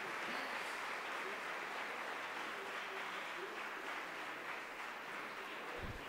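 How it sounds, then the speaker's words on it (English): Students and guests at an education awards ceremony clap together in a long, steady wash of applause, fairly faint and distant, with faint voices underneath. "Can we have a big clap?"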